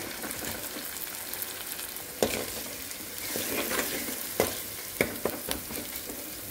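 Ginger garlic paste fries in hot oil while being stirred, with a steady soft sizzle and several sharp utensil scrapes and taps against the pan.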